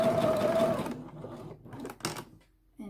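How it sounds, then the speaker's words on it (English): A sewing machine runs in a brief close burst while back-stitching a skirt seam, then stops, followed by light clicks and handling noises. "Hold your fabric tight. Do the back stitch."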